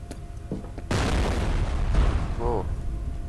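A grenade goes off in the shooter game F.E.A.R., a sudden loud boom with a long rumbling roar that lingers, heard alongside game noise and a voice talking.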